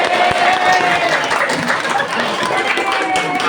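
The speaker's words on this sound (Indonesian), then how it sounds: "Bapak ingin membangkitkan semangat kalian ya dengan biasa saja bertepuk tangan ya" A classroom of pupils clapping their hands together, a dense, steady patter of many hands with voices mixed in throughout.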